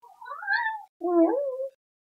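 Two drawn-out meows from a house cat, close and fairly loud, the first rising and falling, the second lower and throatier, with a short pause between and no talking.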